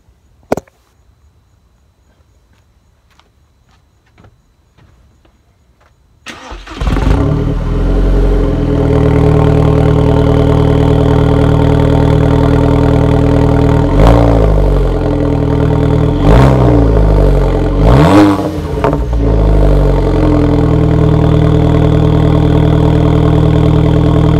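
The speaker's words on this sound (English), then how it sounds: "you guys just heard the exhaust sound on a cold start" Cold start of a VW GTI with a USP 3-inch downpipe and AWE catback exhaust: after several seconds of near silence the engine fires loudly, settles into a deep steady idle, and gets several quick revs.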